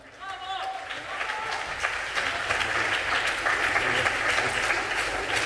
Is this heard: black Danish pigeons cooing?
no